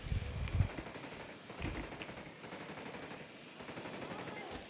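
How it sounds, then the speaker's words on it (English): Bursts of rapid video game gunfire crackle at a distance, with heavier thumps near the start and scattered shots following, fairly faint throughout. "Looks like gunfire in the third floor."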